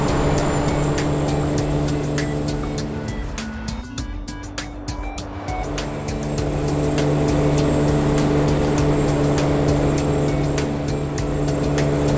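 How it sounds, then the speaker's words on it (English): A heavy truck engine in the video game American Truck Simulator drones with a steady low hum that dips briefly and then climbs back, sounding labored and strained throughout. "from the outside it sounds like the truck is straining"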